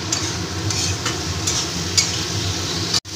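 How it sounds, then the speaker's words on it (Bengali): Fried kakrol (gourd) is stirred into a spice masala in a pan, giving a steady close sizzle with soft scraping stir sounds. The sound cuts off briefly near the end. "এবার আমি এই ভেজে রাখা কাঁকরোলগুলোকে দিয়ে দিচ্ছি। এই মশলার সাথে আমি একটু ভালো করে আবার কষিয়ে নেব।"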